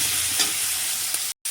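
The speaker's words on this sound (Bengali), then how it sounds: "আলুটা ভাজা ভাজা হয়ে গেছে" Potatoes fry in a pan with a dense, even sizzle that cuts out for a split second near the end, close and fairly loud with no speech.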